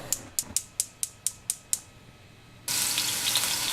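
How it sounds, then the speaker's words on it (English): Olive oil, about a tablespoon, frying in a kitchen pan: a row of sharp clicks comes first, then a steady, loud hiss and crackle of sizzling oil takes over for the rest, with no voices. "We're going to put that 1 tablespoon of olive oil into the pan"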